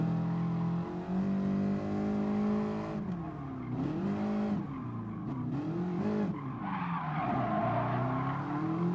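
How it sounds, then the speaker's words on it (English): Car tires squeal and skid loudly under the emergency brake in Gran Turismo Sport, a sustained screeching over steady engine drone, swelling and wavering through sharp turns without pause. "that was my emergency brake kicking in"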